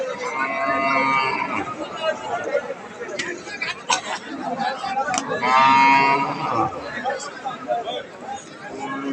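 Cattle mooing amid a busy crowd at a village cattle market, people chattering all around, with a couple of sharp knocks and a louder lowing call midway.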